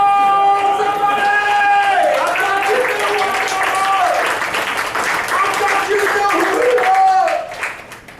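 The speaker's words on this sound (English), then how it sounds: "it's okay to clap for that" A church congregation claps and applauds loudly over sustained organ or keyboard chords, with crowd noise mixed in, then the applause fades near the end.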